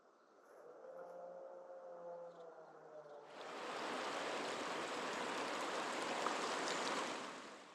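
A stream flows past the village of Clapham in the Yorkshire Dales, at first a softer trickle with a faint hum, then a sudden, much fuller rushing of water that holds steady before easing off slightly at the end.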